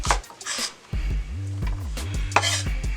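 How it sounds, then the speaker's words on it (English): A knife slicing green onion on a cutting board, a few close, soft chopping knocks over a steady low electrical hum. "we're just going to slice a little bit of the green onion here"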